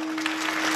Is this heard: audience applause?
yes